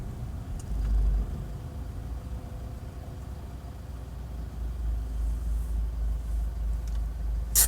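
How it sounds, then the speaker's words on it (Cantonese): A car on a driving-test route in Hong Kong eases off the throttle while preparing to stop, with a steady low engine and road rumble running throughout and no talking. "望鏡收油，準備停車"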